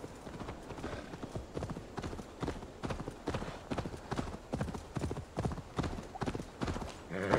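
Horse hooves clip-clop in a steady, rapid rhythm while riding in Assassin's Creed Valhalla, loud and close throughout, with a brief whinny-like burst near the end.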